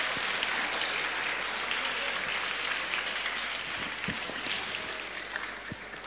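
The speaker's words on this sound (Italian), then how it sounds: "Un applauso anche per Laura." An audience applauds after a prize is awarded in Italy, a dense, even patter of clapping that gradually eases off toward the end, with no voices over it.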